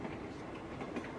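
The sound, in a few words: moving sleeping car train clattering on rails, from a video game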